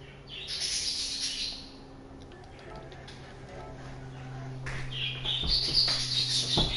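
Birds chirp in short bursts near a parked street-car cruise gathering, with people talking over them and steady engine or background hum underneath.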